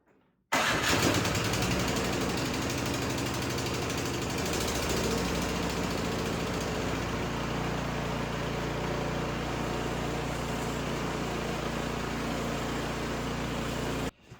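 A Troy-Bilt Squall 2100 snowblower engine, just after carburetor cleaning, catches and starts, then runs steadily and loudly at a close distance for the rest of the clip, with no one speaking.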